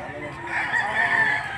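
A Cuban Tiger gamefowl hen at a livestock auction gives short clucking calls, fairly close and moderately loud, with faint voices in the background.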